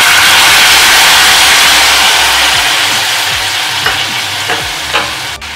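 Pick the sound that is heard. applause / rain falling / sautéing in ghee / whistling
sautéing in ghee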